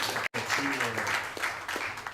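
Brief applause from an audience at a French-language book presentation, moderate clapping from a modest crowd with talk overlapping it, after a momentary dropout near the start.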